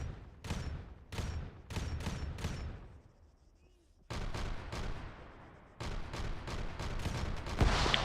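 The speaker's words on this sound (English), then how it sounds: "Bolter fire northwest, 250 at" Bolter gunfire in the Arma video game, loud bursts of rapid shots in three clusters with a brief lull in between, sharp and close, with faint radio-style voices in the background.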